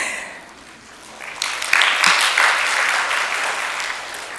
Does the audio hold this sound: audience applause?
yes